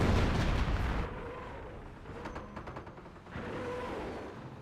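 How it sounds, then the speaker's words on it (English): Nebelwerfer rocket artillery barrage firing in Company of Heroes, a heavy booming burst at the start, then a rapid string of sharp launches and crackles before a low rumbling swell returns, moderately loud. "Neb Warfare Barrage firing away"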